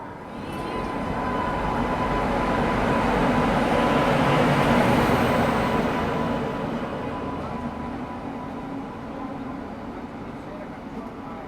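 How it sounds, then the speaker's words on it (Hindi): A TKD WAP-7 locomotive of the Malwa Express reverses toward its coaches to couple, a continuous heavy rumble that swells to a peak mid-way and then eases off, with a faint steady tone above it. "आ भी गया पावर रिवर्स होके।"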